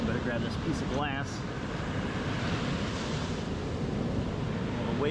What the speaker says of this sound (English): Well, the waves are coming up right here.